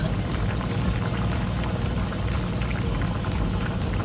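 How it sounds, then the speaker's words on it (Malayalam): Fish curry simmering on low heat in a pot, a constant close bubbling and popping that fills the whole stretch evenly without pauses, no voices over it. "ചെറുതീ മതി തിളച്ച് വരുന്നുണ്ട് കറി"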